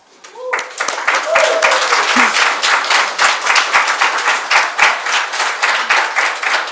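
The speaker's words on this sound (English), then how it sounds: "I would like you to give a grand applause for a project manager, Liisi." Sustained audience applause fills a business forum hall, dense steady clapping from a sizable crowd with a brief voice at the start.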